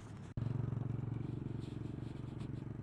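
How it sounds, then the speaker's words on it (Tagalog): A motorcycle engine drones close by on a road near Balbalungao Dam in Lupao, Nueva Ecija, with a steady, pulsing hum. A brief dropout comes just before the engine picks up again. "Mabilis pa sa akin yung motor na yun"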